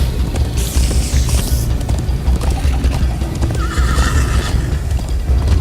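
In Minecraft: Story Mode, a horse neighs loudly over rapid galloping hoofbeats, the rumbling gallop continuing throughout with a second whinny later.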